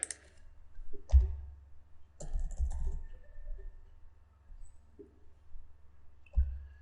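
Keys on a computer keyboard are tapped while an Excel function is entered, giving sparse, soft clicks in small clusters separated by pauses, close and faint over a low background hum.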